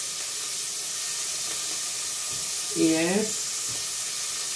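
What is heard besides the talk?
prawns frying in oil in a pan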